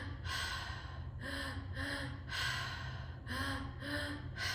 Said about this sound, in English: Belly, chest, exhale with that smile on your face.